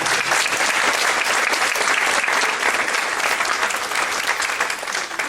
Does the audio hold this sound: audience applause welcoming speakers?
yes